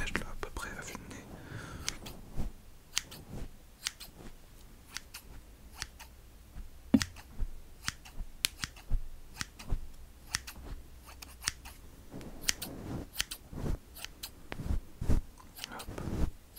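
Close, crisp scissor snips cut hair in a French hairdresser roleplay, coming in irregular bursts across the whole stretch while a soft whispering voice talks between and under them.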